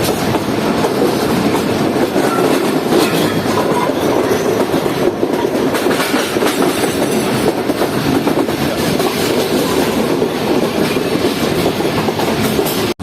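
A passenger train on the Khyber route rolls into Khanpur Junction railway station, heard from inside a carriage as a loud, continuous rumble with rhythmic clickety-clack of wheels over rail joints and faint squeals.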